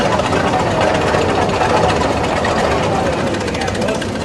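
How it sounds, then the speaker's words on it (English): An old tractor engine runs loud and close in a small-town pioneer days parade, with a steady rough chugging rumble that stays continuous throughout. "Another lovely running tractor."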